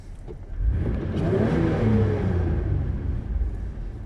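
A Mitsubishi Pajero drives at night, its engine rising into a steady revving rumble with a climbing mid-range whine, heard from inside the car, loud and continuous with no speech.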